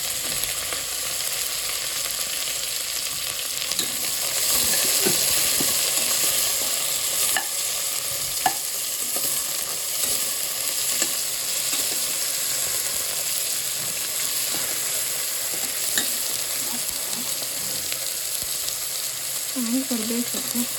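Onions frying in a pan with garlic, curry leaves and green chillies for a pumpkin dish, a loud, even sizzle running throughout with scattered scraping and tapping of a stirring spoon.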